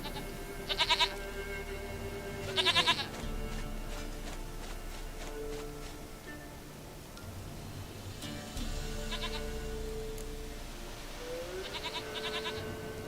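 A goat in The Witcher video game bleats in short, nasal bursts, several calls spaced a few seconds apart over a steady ambient background with no talk.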